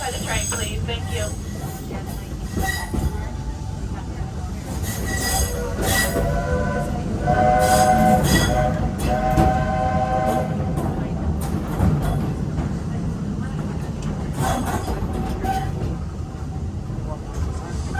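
The Walt Disney World Railroad train rolls along the track with a steady rumble, rattling cars and occasional high wheel squeals, while a recorded announcer speaks over the noise.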